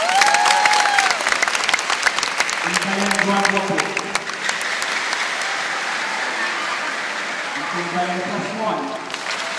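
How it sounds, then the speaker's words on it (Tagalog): Applause from a crowd at a political gathering with local leaders and coordinators, clapping and some cheering running throughout beneath a speaker's amplified voice talking over it. "pwede na po palakpak."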